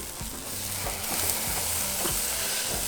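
Carne asada meat sizzles on a grill right after being flipped, a close, even hiss that holds steady for a few seconds with no voices.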